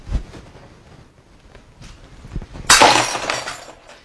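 A wine glass struck with a hammer shatters in one sudden loud crash with tinkling fragments trailing off, after a few quiet handling knocks.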